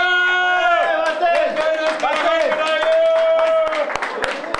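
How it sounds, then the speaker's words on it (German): Villagers in the Dissen local history museum cheer, shout and clap together right after a village competition result is announced. The jubilant crowd is loud and close, and the cheering is sustained throughout. "Jubelschreie im Heimatmuseum Dissen"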